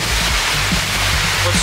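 Wind and water rush past a sailing yacht on a river, a loud, steady broadband roar of buffeting air and churning water with no pauses, close to the listener.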